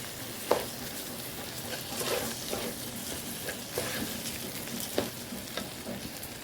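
Rice sizzles in a pan with browned vermicelli while a spoon stirs it, giving a steady frying hiss with intermittent scraping knocks close by.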